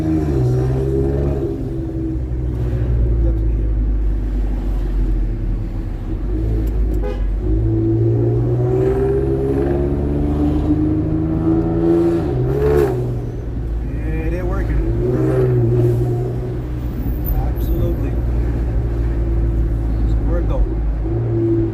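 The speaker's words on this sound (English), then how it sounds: "Sometimes this exhaust is so loud I can barely hear the blow-off valves." A car exhaust loud enough to drown out the blow-off valves roars steadily as the engine revs up and settles in repeated swells, close and loud throughout, with someone talking over it at points.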